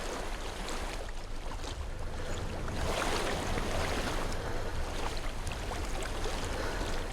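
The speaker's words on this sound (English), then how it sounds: "I hear water." Flowing water in the video game Hellblade: Senua's Sacrifice, a steady broadband rush like a stream or surf with a little wind, loud and continuous throughout.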